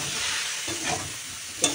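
Bengali spice paste sautés with a splash of water in a pan, a close steady sizzle and hiss with soft stirring scrapes and a short clatter at the end, no voices.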